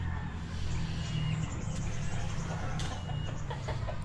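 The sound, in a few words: chicken clucking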